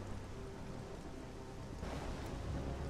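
Storm ambience in God of War III: a dense, steady wash of heavy rain with low rumbling thunder underneath, continuous and fairly faint.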